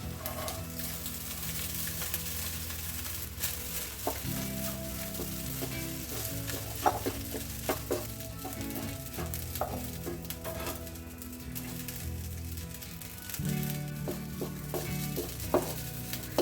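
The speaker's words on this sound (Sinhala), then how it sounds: "මම දැන් බත් ටික දාගත්තට පස්සේ විනාඩියක් විතර ඒක ටිකක් ෆ්‍රයි කරගත්තා" Cooked rice frying in a pan with half-fried eggs: an even, close sizzle throughout, punctuated by scattered clicks and scrapes of stirring against the pan over a low tonal drone.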